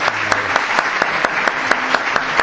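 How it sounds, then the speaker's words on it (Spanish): Lecture audience clapping at the opening talk of a 2019-2020 course, loud, dense applause filling the room with a few sharp claps standing out, no talking. "Le damos un aplauso al final"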